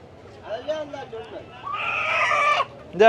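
A village chicken clucks and squawks up close, with a longer drawn-out cackle near the end.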